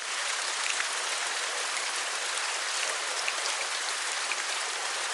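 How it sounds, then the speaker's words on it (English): Heavy rain pours steadily outside a homestead in Arizona, an even, dense hiss of countless drops with no pauses or voices, heard from indoors at a moderate level. "it's pouring outside and it's going to be pouring all day and tomorrow"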